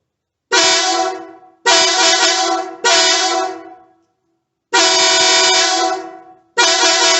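Marco air horn on a 1992 Ford F150 truck blares in five loud, close blasts, each held about a second with short gaps between, with no talking.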